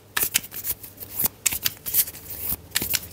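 Tarot cards being shuffled, handled and laid down over another card: a quick series of close, crisp riffling slaps and soft flicks in uneven bursts, with no voice.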